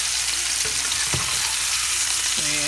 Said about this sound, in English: you just kind of stir the bottom